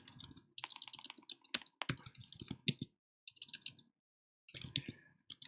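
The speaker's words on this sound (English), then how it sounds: "I am bad at typing." Someone types on a computer keyboard, close by, in irregular bursts of rapid key clicks separated by short pauses, with no talking over them.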